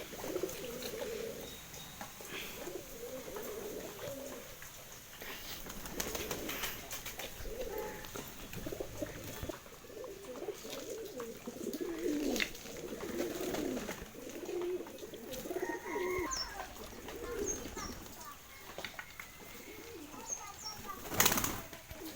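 Pigeons coo in steady low, throaty rolls through most of the stretch, with soft wing flaps and rustling from a close loft of matched breeding pairs, including cock and hen birds.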